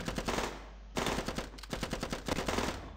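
Rapid gunfire against zombies in the Zombie Defense video game, loud bursts of machine-gun fire with a brief break between volleys, continuous and close, no talking.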